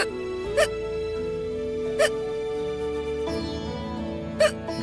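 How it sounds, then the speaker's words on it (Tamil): Three short, sharp hiccups break out at separated intervals, each a brief vocal catch rising over a steady bed of background music in a Tamil television drama scene. "இன்னும் விக்கல் நிக்கல"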